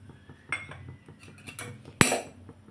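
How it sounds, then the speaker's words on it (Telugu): Dry peanuts are poured into a metal kadai on the stove: scattered light clinks and rattles, then one sharp, bright metallic clatter, close and clear with no talking. "కళాయిలో ఒక కప్పు పల్లీలు వేసుకోవాలి"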